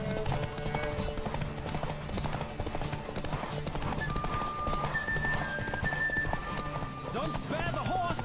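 Horse hooves clip-clop steadily at a fast gallop in a race in The Witcher 3, with occasional whinnies and game music and voices running underneath throughout.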